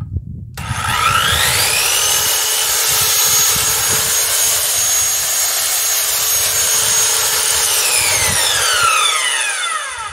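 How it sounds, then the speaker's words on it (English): Ryobi power saw running off a portable power station: the motor spins up within the first second and cuts with a steady loud whine, close by, for about eight seconds, then winds down. "This is my Ryobi power saw."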